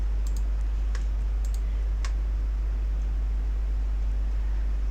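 A few sharp, faint computer mouse clicks sound over a constant low electrical hum, two quick pairs and a single click spaced across a few seconds.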